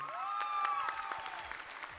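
Applause at a talent show grand final fills the hall while a tonal musical sting or voice rings over it, the clapping dense and moderately loud across the short stretch.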